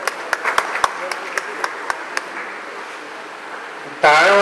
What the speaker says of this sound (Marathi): टाळ्या वाजवल्याने काही ऊर्जा खतम होणार नाहीये